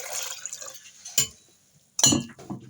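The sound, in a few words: water being poured into a pot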